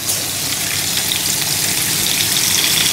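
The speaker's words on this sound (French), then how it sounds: "Ça doit bien grésiller, hein." Turkey fillet sizzles steadily and loudly in a hot pan, a constant crackling fry with no voices.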